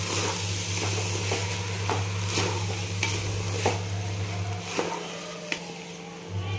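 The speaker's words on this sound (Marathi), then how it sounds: "पूर्ण तेलामध्ये पूर्ण फ्राय झाले पाहिजेत हे तांदूळ भाजून घेतल्यासारखे करायचे" Rice being stirred and fried in oil for chicken biryani cooked in a pressure cooker, giving a steady close sizzle with repeated scraping stir strokes, and a low hum underneath that drops out near the end.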